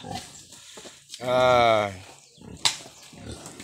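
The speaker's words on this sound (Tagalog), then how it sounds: "Lumabas na ang baboy ni Idol Boy Baboy." A pig gives a loud, drawn-out grunting squeal, close by, amid background chatter and talking voices.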